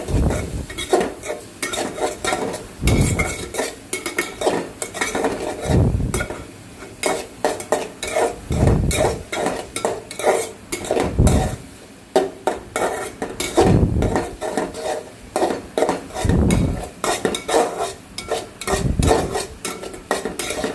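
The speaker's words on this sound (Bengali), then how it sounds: "ম্যাগি নুডলসের মশলা যেটা থাকে ওটাই দিয়ে ভালো মতো নাড়বো" Maggi noodles being stirred with their masala seasoning in a pan, loud repeated scraping and clinking of a utensil against metal in uneven strokes over a faint sizzle.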